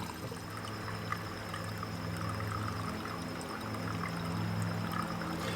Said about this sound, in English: we're going to pour that gasoline into here